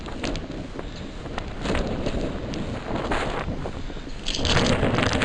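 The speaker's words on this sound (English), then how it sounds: "The wind is getting too strong" Strong wind buffets a shingled house roof with loose, lifting shingles, a steady loud roar with gusty rises and a stronger gust near the end, no voices.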